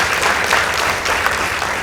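A short, loud burst of many people clapping for a school debate team at a secondary-school debate, with the hands crowded close together for about two seconds.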